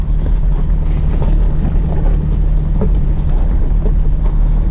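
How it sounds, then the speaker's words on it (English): A truck grinds uphill in first gear on a rough off-road climb, its engine a steady, loud low drone with constant rumble and buffeting wind, no voices over it. "Truck is shifted down into first gear for me."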